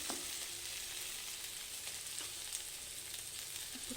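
Sliced okra (bhindi) frying in a pan as a home-style fry: a continuous close, even sizzle with faint stirring scrapes throughout.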